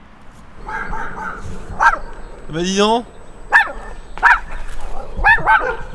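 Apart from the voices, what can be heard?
small dog barking while chasing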